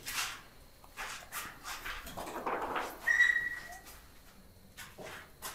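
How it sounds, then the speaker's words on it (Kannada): Puppies whimper with faint, thin, high whines that come and go in short bursts, one brief tonal cry rising in the middle amid scattered soft rustles and clicks. "ನಾಯಿ ಮರಿಗಳು"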